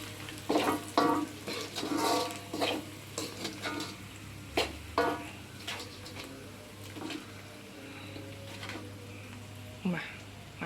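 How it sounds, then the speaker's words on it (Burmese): Fish fries in a pan with a low, continuous sizzle, broken by repeated sharp scrapes and clatters of stirring or turning at irregular intervals, close up. "ငါကြော်နေတယ်"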